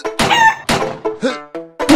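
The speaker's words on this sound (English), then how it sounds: "Chickens!" Cartoonish chickens clucking in the indie shooter game Bird Assassin, a run of short loud squawking calls in quick succession, close and alone with no talk over them.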